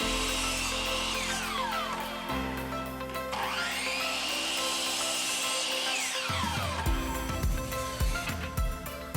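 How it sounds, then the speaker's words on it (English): A power drill driving screws into wood from whiskey barrel parts whirs close by, its motor revving up and winding down in several bursts with no talking. "Pre-drill and screw this thing together"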